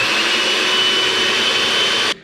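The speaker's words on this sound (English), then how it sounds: "Now we're gonna beat these whites to stiff peaks." Egg whites beaten toward stiff peaks, a steady loud whirring like an electric mixer running continuously near the mic, then cutting off abruptly at the end.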